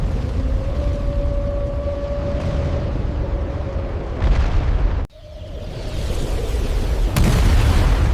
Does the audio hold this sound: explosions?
yes